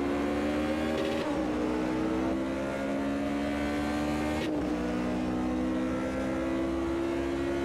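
A Ferrari racing car in the Automobilista 2 sim at the Brno circuit, engine droning steadily at high revs with two sharp gear-shift drops, loud and continuous with no talk.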